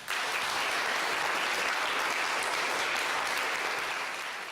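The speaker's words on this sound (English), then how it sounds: "if we give them a bit of a clap" An audience claps for a staff team at a business event, dense, even applause that holds steady before easing slightly at the end.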